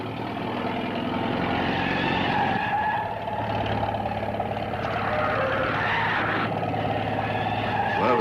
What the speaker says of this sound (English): Whoever's driving that truck's mighty shy on brain.